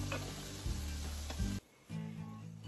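Stuffed eggplant and bitter melon rings fry in oil with a steady close sizzle and crackle, briefly dipping quieter near the middle before the hiss returns.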